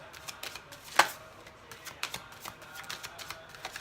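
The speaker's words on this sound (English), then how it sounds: "I do have to shuffle the cards like this because it breaks the energy" Tarot cards are shuffled by hand in quiet, soft riffling and shuffling bursts, with one sharper snap near the start and smaller irregular flicks afterward, close and faint with no talking.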